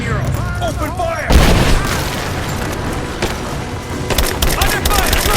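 Gunfire in Rise of the Tomb Raider: a heavy boom opens a dense run of rapid shots and blasts that continue through the fight, mixed with shouted voices and game effects.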